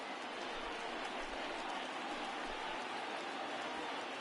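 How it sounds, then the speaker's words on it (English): A baseball crowd at a Milwaukee Brewers at Chicago Cubs game roars steadily during a late rally. The sound is a dense, sustained wash of cheering with no breaks, heard from a distance. "listen to this crowd now. They are really into this."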